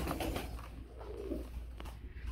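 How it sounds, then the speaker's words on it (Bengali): A pair of large racing pigeons coo softly and repeatedly nearby, low throaty calls in a quiet room with faint background noise. "বড় সাইজের এক জোড়া আমরা রেসার কবুতর দেখাবো।"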